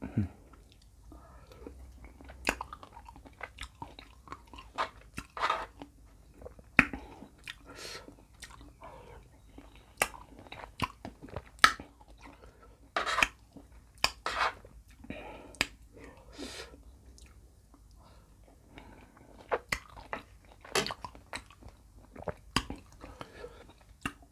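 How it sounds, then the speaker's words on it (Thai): Someone chews mafai fruit dipped in sweet fish sauce close to the microphone. Sparse moist bites, crunches and smacking mouth clicks are scattered over a quiet background, with faint whispering now and then. "กินกับน้ำปลาหวาน"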